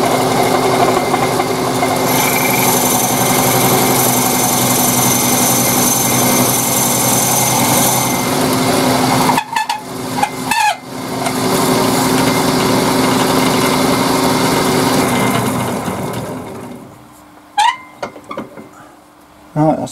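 A power drill bores a long hole right through a wooden urn, whining loudly and continuously for several seconds, cutting out briefly, then resuming before stopping, with short knocks and a voice near the end.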